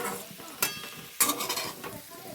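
Potato and papaya pieces fry in a pan with a soft crackling sizzle, broken by two sharp clatters of a spatula stirring against the pan.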